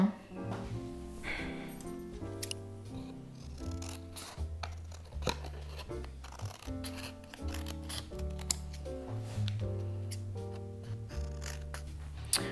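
Scissors snip around a handmade watercolour pop-up paper card in a run of crisp, rapid cuts and slides, close and clear, while someone talks in a calm voice over the cutting.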